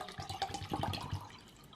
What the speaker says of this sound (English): We're gonna fill it up, the beaker, with water.